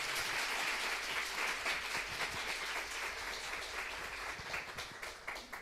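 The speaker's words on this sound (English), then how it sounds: "Let's also thank the speakers, guys. With round of applause." A workshop audience applauds the speakers with a sustained, dense round of clapping throughout, steady and fairly loud from start to finish.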